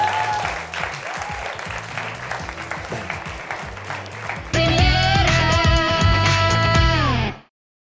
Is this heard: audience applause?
yes